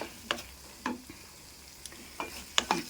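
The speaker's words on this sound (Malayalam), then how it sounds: "മഷ്റൂം നന്നായി ഫ്രൈ ആയിട്ടുണ്ട്." Mushrooms for a mushroom biryani frying in a pan over a quiet low sizzle, punctuated by a handful of distinct scraping stirs and light utensil taps.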